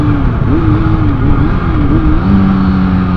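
Kawasaki Ninja ZX6R sport motorcycle engine running steadily up close, a loud continuous drone with small pitch wobbles as it is ridden, the tone settling higher and smoother near the end.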